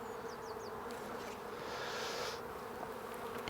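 Honey bees on open hive frames give off a continuous, even drone of many wings close by, with a few high chirping notes at the start and no voices.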